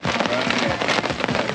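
Steady rain patters down at a canoe campsite, a dense continuous hiss with scattered drop impacts, close and fairly loud throughout with no talk over it.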